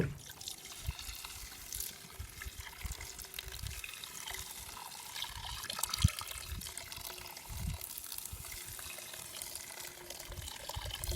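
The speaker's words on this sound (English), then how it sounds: "if you still need to add some water, just add some water to get it covered" Water poured into a cast iron pan holding garlic and spaghetti for tuna mac, cooking over a fire outdoors: a faint, steady trickle and pour with low rumbling underneath and no talking.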